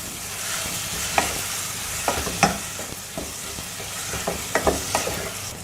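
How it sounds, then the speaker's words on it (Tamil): Spiced curd with chilli powder and turmeric is stirred in a frying pan, soft sizzling under a run of scraping, clicking spatula strokes at an irregular rhythm, close and fairly quiet. "நல்லா கிளறி விட்டுட்டே இருக்கலாம்."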